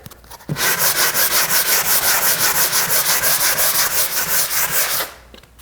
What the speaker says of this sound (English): I'm going to take a sanding block and try and get this a little smoother